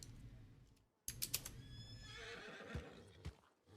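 Horse whinnying in a roleplay video game, a sharp neigh rising out of near silence after a second, with hoof clip-clops and faint clicks following, no voices.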